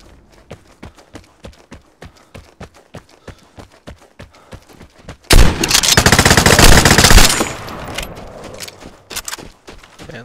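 Gunfire in the shooter game Vigor: a run of quick, evenly spaced thuds gives way to a loud, sustained burst of automatic fire lasting about two seconds, then a few scattered single shots.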